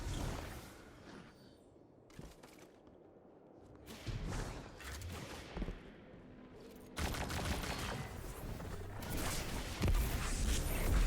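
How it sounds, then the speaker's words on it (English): Gunfire from a machine gun and rifles in the video game Destiny 2 comes in rapid bursts of sharp cracks and thumps, with quieter gaps between volleys that grow louder and denser toward the end, and no speech. "For this, I am going to finish it off with my machine gun to conserve some Lawrence Driver ammo."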